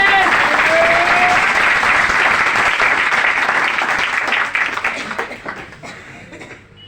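A crowd at a success celebration meet in Sirhind, Punjab breaks into loud, dense applause that holds steady, then gradually fades into scattered claps.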